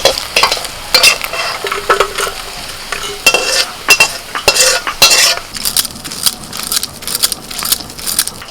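Turmeric powder frying in oil for a mashed-fish dish, a low sizzle under repeated scraping and clinking as a spatula stirs the pan in uneven strokes.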